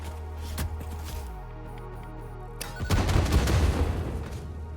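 FICSMAS fireworks go off in a video game: a few sharp pops early, then a loud crackling, booming burst in the last seconds over steady electronic game tones.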